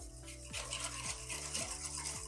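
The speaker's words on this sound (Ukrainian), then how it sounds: "ми візьмемо вінчик і зробимо все красиво" A whisk stirring yeast dissolved in milk in a bowl while making Easter paska dough, a quiet rhythmic swishing and scraping in regular strokes about twice a second, with no talk.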